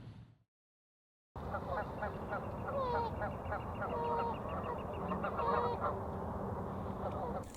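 A flock of Canada geese honks continuously after a short silent gap, many overlapping calls near and far, with a voice narrating over the honking.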